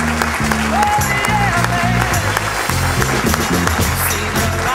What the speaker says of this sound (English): let's applause is appropriate